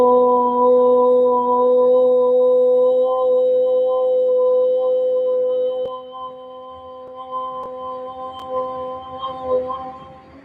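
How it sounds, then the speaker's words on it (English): A sustained, steady vocal tone on a long O, voiced on a slow exhale during a live yoga session, held for about six seconds before tapering into softer, quieter sounds. "when we exhale, we're going to say an O sound, just a long O"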